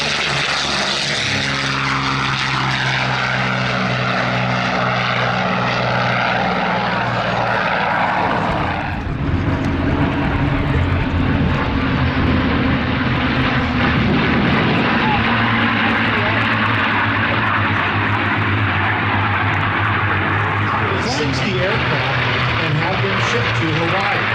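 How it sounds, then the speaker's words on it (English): A propeller airplane on its takeoff roll at the Hollister air show, its engine roaring steadily and loudly throughout while an announcer talks over the noise. "On the takeoff roll, Eddie Andrini Jr. from Half Moon Bay, Calif"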